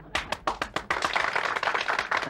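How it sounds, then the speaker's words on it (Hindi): A small audience applauds at an event honouring a writer, with a handful of separate claps at first that quickly fill into steady, moderately close clapping for about two seconds. "तालियां।"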